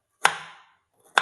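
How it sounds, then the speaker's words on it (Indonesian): A knife chops down hard through food on a cutting board, pressed with both hands: two sharp, loud knocks about a second apart, the first trailing a brief scraping rasp. "saya harus menggunakan 2 tangan untuk memotong"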